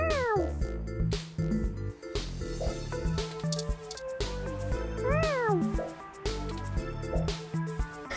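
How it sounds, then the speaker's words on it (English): A cat meows several times inside the video game 2064: Read Only Memories, the calls rising and falling over a steady bed of game music, fairly close and clear. "Oh, expert meow!"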